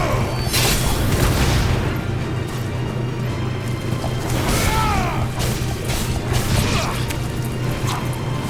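Explosions from bombs in a Final Fantasy XVI battle beneath a big bridge, booming and crashing over dense, continuous combat noise with whooshes and metallic clatter throughout.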